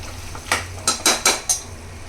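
A spoon clinks against a pot five times in quick succession while chicken buttermilk curry is stirred after coriander is sprinkled in. The scraping metal knocks are close and clear over a quiet background, with no talking.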